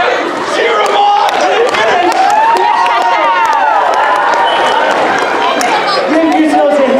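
Loud crowd of young people cheering and shouting at a youth conference basketball game, a sustained roar of overlapping voices and yells close by, with calls rising over the noise.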